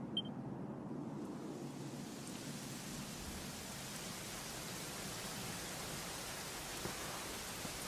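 Steady rain in the Ruins of Dundrasil in Dragon Quest XI, an even, unbroken hiss of falling drops, soft and constant with no voices.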